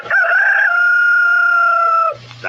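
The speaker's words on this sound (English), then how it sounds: "That was the rooster." One long, loud rooster crow rings out close by, holding a steady, bright drawn-out note for about two seconds before it cuts off.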